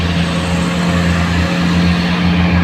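Loud, close engine drone of an orange truck straining up a steep hill, a steady low-pitched motor note with a humming tone held for the whole stretch.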